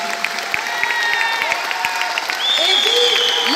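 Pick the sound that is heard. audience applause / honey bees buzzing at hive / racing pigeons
audience applause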